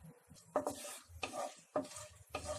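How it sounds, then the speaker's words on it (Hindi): Whole spices (black pepper, cinnamon pieces, cardamom and cloves) sauté in melted ghee over a high flame, with faint sizzling under four distinct stirring scrapes of a utensil against the pan. "हाई फ्लेम पे इसे सौटे कर लें।"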